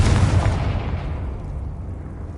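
Confringo explosive spell going off in Hogwarts Legacy: one loud, close blast with a deep low rumble that slowly decays over about two seconds, with no voice over it.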